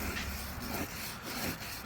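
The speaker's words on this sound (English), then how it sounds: "You sand this and make more of a tooth so the brake fluid can penetrate more" Hand sanding of a painted surface rasps back and forth in uneven, gritty strokes, close and fairly quiet, with no voices.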